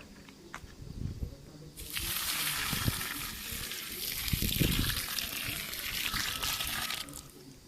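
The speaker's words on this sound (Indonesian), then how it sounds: "kita akan siram dengan sedikit air supaya pupuk ini menjadi basah" Water is poured into a planting hole over fertilizer before a Xanthostemon shrub goes in. A quiet start is followed by a steady gushing pour that lasts about five seconds and then stops abruptly.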